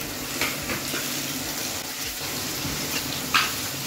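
Onions sizzle steadily in hot oil for an Assamese rohu fish curry with taro, a moderate continuous crackle with a couple of brief scraping stirs, no voices.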